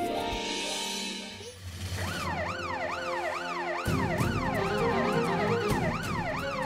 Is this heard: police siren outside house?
yes